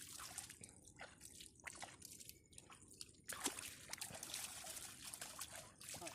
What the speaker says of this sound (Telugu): ఇట్లా వాటర్ కొడతా వాటర్ ఫ్లో రావాలి